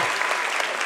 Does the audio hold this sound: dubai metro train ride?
no